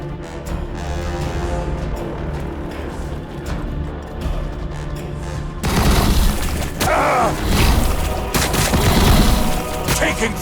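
A Warhammer battle between Tyranids and Blood Angels rumbles with a dense barrage of gunfire and booms, steady at first, then swelling abruptly into louder, heavier bombardment under a continuous battle soundscape.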